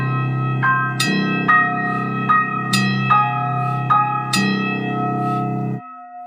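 Metal pot lid struck repeatedly, ringing like a church bell; several sharp strikes each leave a sustained, shimmering metallic tone that overlaps the next, loud and close, before the ringing is abruptly damped at the end.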